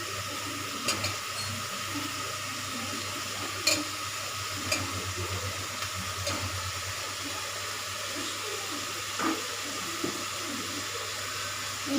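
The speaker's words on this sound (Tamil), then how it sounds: "இப்போ நம்ம வந்து போட்ட தக்காளி நல்லா வதக்கிடலாம்." Chopped tomatoes sautéing in a pan for tomato rice, a steady soft hiss with occasional light clinks and stirring scrapes, with rain falling outside.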